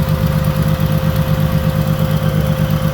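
An S10 street rod's engine runs at a steady idle after about twenty minutes, a loud, even, close mechanical drone with a constant low hum and no voices.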